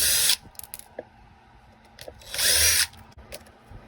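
A power drill spins out dash screws on a 2018–2019 Nissan Frontier, in two short, loud whirring bursts at the start and again near the end, with quieter clicks and handling noises between them.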